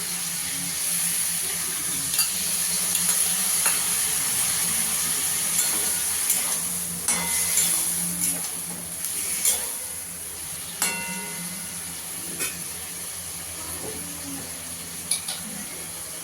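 Ground cumin, coriander, dried chilli and ginger paste frying in a pan for a fish curry, with a soft steady sizzle punctuated by scattered scrapes and clinks of stirring, fairly quiet throughout.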